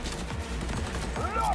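Gunfire in the video game Cyberpunk 2077 Phantom Liberty, a rapid burst of shots layered over game sounds and a speaking voice.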